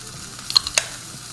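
Pork tenderloin sizzling in a pan as malt beer is poured in, a short burst of sizzle and splash with a couple of sharp crackles over a quiet background.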